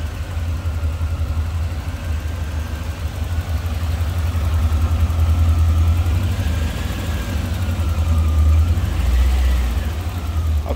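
A 1986 Chevrolet Corvette Indy Pace Car convertible with a 5.7 liter 350 tuned port injection V8 idles steadily with the hood open, a loud, even low rumble throughout with faint higher whine drifting above it.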